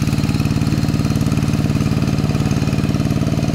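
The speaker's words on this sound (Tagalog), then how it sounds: "nahihirapan yung makina natin." The engine of a rice threshing machine runs steadily up close, a loud, even, rapidly pulsing drone with no pauses and no voices.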